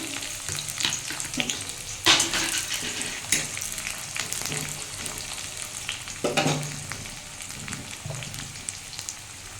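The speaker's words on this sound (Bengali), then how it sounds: "এর মধ্যে একটু পেঁয়াজ দিয়ে দিলাম" Onion frying in a pan with garlic, for a Bengali cabbage fry: a steady close sizzle with crackling spatters and a few louder bursts where it is stirred, no voices.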